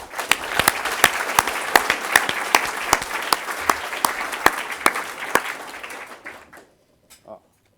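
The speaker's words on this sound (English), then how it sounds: "So big round of applause, please, for Adaxa" Audience applause for Adaxa at the NZOSA 2010 open source awards, a dense burst of clapping with sharp individual claps standing out, fading away near the end before a brief final sound.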